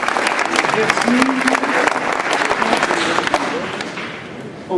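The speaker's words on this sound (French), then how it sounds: "On vous applaudit, vous aussi." Loud, dense applause from a large crowd at a mayor's New Year address, steady clapping throughout that tapers slightly near the end, with faint voices mixed in.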